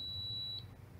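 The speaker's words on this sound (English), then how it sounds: "The long beep shows that it has been accepted." A 10-digit wireless keypad gives one long, steady electronic beep to confirm an accepted passcode, clear and close for about half a second before fading into quiet room noise.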